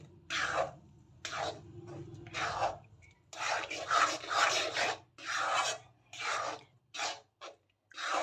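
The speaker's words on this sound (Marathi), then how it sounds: "पाकामध्ये रवा सर्व मिक्स करून घेऊया व्यवस्थित मिक्स करून घेऊया" Semolina being stirred into sugar syrup for rawa ladoo makes repeated soft scraping, rasping strokes in an uneven rhythm, close and fairly quiet with brief pauses between them.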